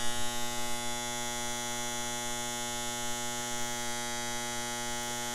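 Steady electrical buzzing from powder coat oven wiring, a constant close mains-like hum with bright harmonic overtones and no change in level, heard alone.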